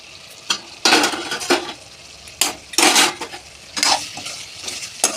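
Lid taken off a pot of vegetarian ridge gourd curry with seeds and lentil dumplings, giving several clattering metallic clanks and scrapes in short bursts, with no talk.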